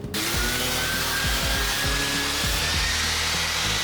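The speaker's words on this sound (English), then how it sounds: "I'll just sand them up." Carved ash wood pieces are sanded with a steady, loud powered whir that runs continuously, overlaid with rhythmic lower scraping strokes as the wood is worked against the abrasive.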